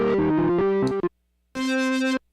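Aggressive distortion on a Behringer synthesizer, likely the BM1 Murf box, in two bursts of buzzy, harmonically rich sustained notes separated by a short silence.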